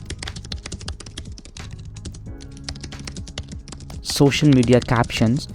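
Fast, steady clicking of keys on a computer keyboard, close and crisp, with someone talking over the end of the typing.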